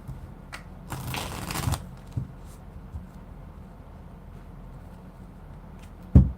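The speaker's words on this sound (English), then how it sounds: "All the cards have been shuffled" Tarot cards are shuffled close by, a burst of riffling and flapping early on, then scattered soft taps and card handling, ending with a sharp knock as the deck is set down; no talk.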